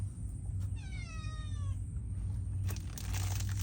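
A cat gives one drawn-out, wavering meow over steady low background hum at a rural farmstead, followed by faint rustling and shuffling noises.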